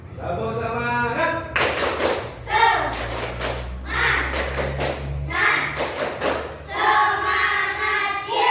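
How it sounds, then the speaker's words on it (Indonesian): A primary school class performs the tepuk semangat, children chanting together while clapping sharp, rhythmic beats. Bursts of claps alternate with sung phrases in a lively classroom pattern. "Mari kita tepuk semangat."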